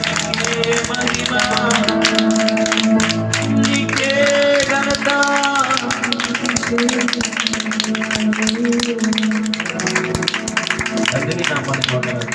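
A church congregation clapping for Jesus, steady applause blended into loud worship music and voices throughout.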